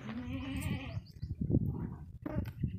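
A goat bleats loudly in wavering cries, then gives a couple more shorter bleats close by, with no talking.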